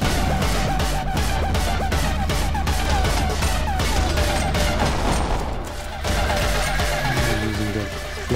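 Explosions from the video game Anger Foot go off in a dense, loud barrage, layered under continuous game music and noise, with repeated blasts and crashes throughout and a short dip near the six-second mark.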